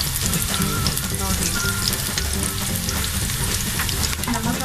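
Onions sizzling and frying in a pan for moong dal khichdi, a loud steady crackle with occasional stirring and a hint of water added, close up, no talking.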